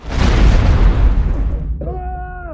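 A grenade explodes in a war film, a single loud close blast with a rumbling decay that gives way to a tonal ringing or whistle.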